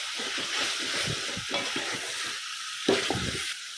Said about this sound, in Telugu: నెక్స్ట్ ఫ్లేమ్ హై చేసేసుకొని మంచిగా ఈ మసాలాలో రోస్ట్ చేసేసుకుందాం ఫ్రెండ్స్